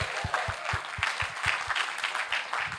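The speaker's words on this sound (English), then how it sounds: "I think we ought to give ourselves a big round of applause." Crowd applause at a Vietnamese American community celebration, a full, lively burst of many hands clapping with a pulsing, beat-like rhythm running through it, fairly loud and sustained.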